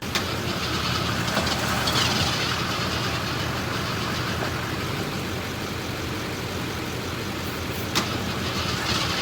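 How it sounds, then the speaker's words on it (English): A 1988 Ford F150 truck engine cranks without catching, a steady continuous mechanical churn that holds close and loud for the whole stretch, with no voices. "I've tried to crank it like 100 times and that's probably not great for it"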